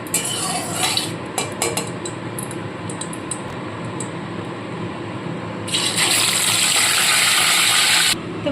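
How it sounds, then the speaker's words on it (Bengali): Rohu fish pieces fry in hot mustard oil, a close rushing hiss that swells sharply partway through, with clinks of a utensil against the pan early on, no talking. "তেলটা খুব ভালো মতো গরম করে নিয়েছি এবার এক এক করে মাছগুলো ভেজে আমি তুলে রাখবো"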